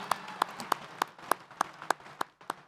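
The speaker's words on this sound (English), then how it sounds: "one more round of applause for that wonderful performance and those wonderful scouts" Faint, evenly spaced claps sound at a commencement ceremony, a sparse handful of hand claps in a slow, steady rhythm rather than a full ovation, with quiet room tone between them.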